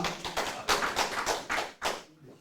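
Audience at a unification academy lecture giving a short round of applause, a few uneven bursts of clapping close by that swell and then taper off into quiet.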